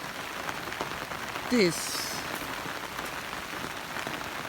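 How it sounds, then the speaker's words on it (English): Steady rain falls on an outdoor surface on a rainy day in Korea, a continuous hiss throughout with a brief louder burst near the middle and a few spoken words over it. "So today is a rainy day in Korea."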